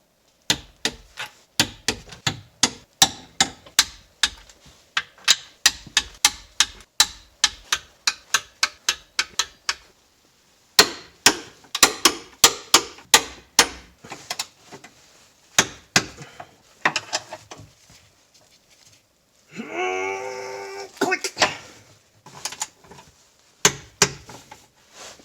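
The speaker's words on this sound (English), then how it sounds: "So here's some torquing action." A torque wrench tightens suspension bolts on a GC Subaru Impreza, giving sharp, close clicks in rhythmic runs, a short pause, then more clicking bursts.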